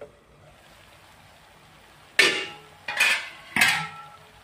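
A spoon stirs a dry mixed vegetable curry in a metal pot, giving three distinct scraping clanks spaced about a second apart after a quiet start.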